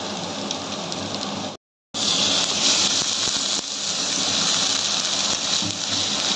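Spice paste of ground green chilli, chilli powder, turmeric and salt fries in oil for a Bengali pabda fish curry, giving a steady loud sizzle with a brief silent break.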